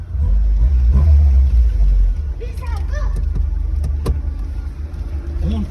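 Steady low engine rumble and road noise from inside a moving car on a long road trip, heavier and louder at first and then continuing under people talking and laughing.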